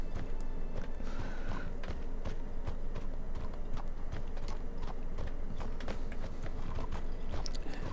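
A horse's hooves clip-clop steadily in the fantasy video game Mortal Online, a continuous close trotting rhythm running the whole time with no talk.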